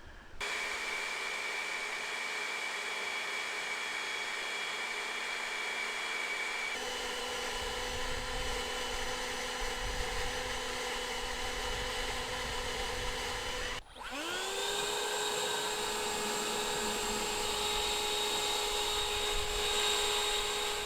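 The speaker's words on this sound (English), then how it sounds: "just going to take turns aiming each of the blowers at the towel" Enhulk 930 cordless leaf blowers take turns blowing at a hanging towel, each giving a steady, high whirring whine. The pitch shifts at each switch, and a sharp spin-up follows a brief dip.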